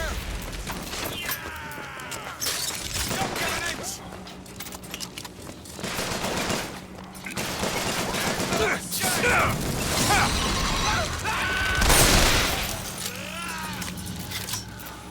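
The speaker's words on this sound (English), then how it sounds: "I don't like the crank gun." A crank gun fires in the first-person shooter BioShock Infinite, bursts of rapid mechanical gunfire and clanking interrupted by short gaps, mixed with battle noise and game voices shouting.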